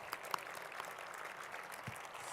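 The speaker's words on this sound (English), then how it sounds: "time now to give a big round of applause to all of our Community Impact Accelerator finalists" Brief, faint applause from an audience cheering the Community Impact Accelerator finalists, a thin patter of claps at a distance.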